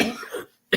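A single person coughs loudly and close up during a live chat broadcast, with a rough spluttering start that fades into a short silence before a second sharp cough bursts out.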